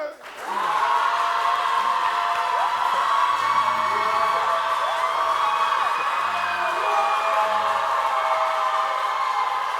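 A studio audience on a French game show applauds and cheers to cast a vote, loud sustained clapping with whoops and shouted voices rising after a brief start and holding steady throughout.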